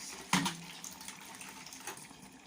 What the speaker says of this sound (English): You can see the amount of water I'm adding into it.